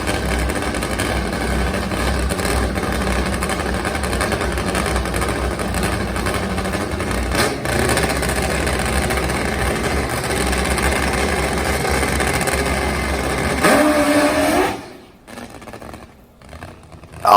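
Top Fuel nitro drag racing motorcycle engines at a drag strip during qualifying, a loud, steady, heavy engine roar that holds for about fourteen seconds and then cuts off sharply into near quiet.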